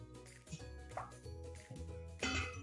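A raw chicken tender is dropped into a bowl of egg wash and lifted out, giving soft close plops and wet drips in a few irregular bursts, faint and quiet.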